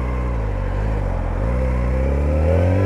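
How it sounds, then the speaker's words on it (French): A four-cylinder motorcycle engine revs loudly and close up, its rough, throaty drone rising in pitch toward the end, with no talking. "le bruit du 4 cylindres"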